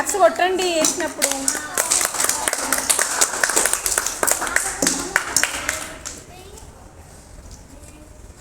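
UKG children clapping together in a school classroom, a burst of rapid, uneven claps lasting several seconds, mixed with children's chatter, then falling quiet.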